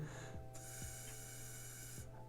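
A long, airy inhalation close to the microphone before blowing a transverse flute, a rushing hiss lasting over a second against a steady background hum.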